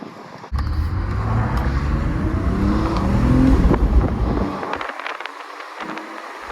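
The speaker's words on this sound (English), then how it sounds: "this car drives amazing" A BMW E46 driving on the road: its engine drones steadily under a rising whoosh of road and wind noise, then the engine sound drops away abruptly near the end.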